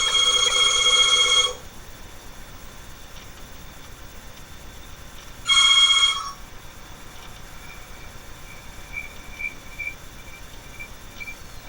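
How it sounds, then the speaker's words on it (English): A telephone rings in two bursts, the first about a second and a half long and the second shorter after a gap, moderately loud in a quiet room. "My phone rang and his phone rang."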